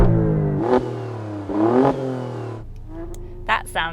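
An Alfa Romeo Stelvio QV engine revved twice while parked, each rev climbing sharply then falling back to a rumbling idle, close and loud, with a few short blips near the end.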